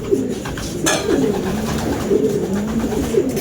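Racing pigeons cooing close by, a few low rolling coos repeating over a steady outdoor hum, with one brief rustle partway through.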